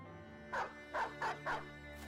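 War dogs barking in the video game Battle Brothers: four clear, evenly spaced barks over a steady game music bed, moderately loud and close, with no voices.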